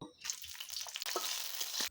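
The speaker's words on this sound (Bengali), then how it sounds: "সর্বপ্রথমে এই শুকনো লঙ্কাগুলো ভেজে নিব।" Dried red chillies frying in hot oil in a wok give a close, steady crackling sizzle that starts abruptly and runs for about two seconds, with no talk.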